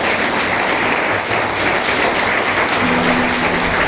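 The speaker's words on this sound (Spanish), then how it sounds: "Dale un fuerte aplauso al Señor." A church congregation applauding, a loud, continuous wash of clapping from many people that holds steady throughout, with a faint tone entering near the end.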